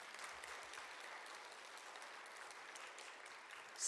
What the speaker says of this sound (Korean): 박수 쳐주세요. 지금 한번.